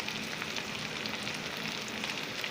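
Dry fish fries in hot oil with garlic and ginger paste for a Tripuri dish, giving a dense, loud, unbroken crackling hiss that runs steadily from start to end with no voices.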